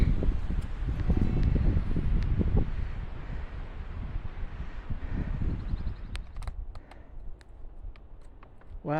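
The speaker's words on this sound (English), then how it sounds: "A little breezy." Gusty wind rushes through pine woods along the Pine Knob loop trail in Sharon, Connecticut, a loud, buffeting roar that eases off toward the end, leaving faint rustling and a few distant high chirps.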